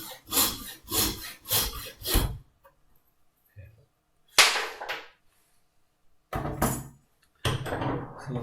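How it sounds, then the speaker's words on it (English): A hand saw cuts through wood in four rhythmic back-and-forth strokes, then pauses before a few more isolated rasping strokes, close and fairly loud. "if you listen to the sound, you can hear the pitch of the sawing getting higher"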